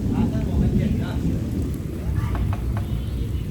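Unseasonal rain pours steadily during a thunderstorm with lightning, a dense hiss of rain on surfaces under low rumbling thunder, with faint voices in the background.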